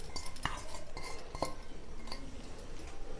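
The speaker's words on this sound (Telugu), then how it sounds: "గోంగూరని కూడా ఇందులో వేసేస్తున్నా" Chopped red gongura leaves dropped into a pot of peanut dal, with a few metallic spoon clinks against the pot and soft stirring, close and moderately quiet.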